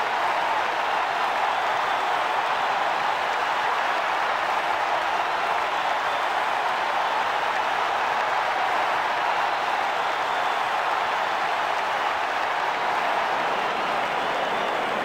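A stadium crowd in the rugby video game Rugby 08 applauds and cheers in a dense, unbroken wash of noise. It holds at an even level for fifteen seconds with no pauses.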